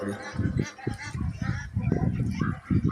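A flock of Pekin ducks quacks and honks continuously close by, busy and overlapping, with a voice faintly mixed in.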